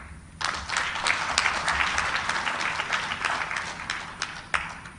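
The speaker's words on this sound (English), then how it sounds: "Please, a round of applause for our elders." A crowd applauds steadily for about five seconds at a democracy conference in Arusha, many hands clapping at once in a dense, sustained wash of sound.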